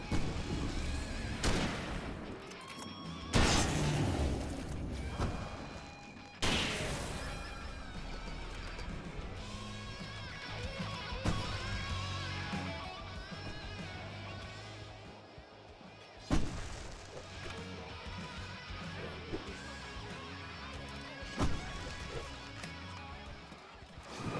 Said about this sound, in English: That explains the fireworks.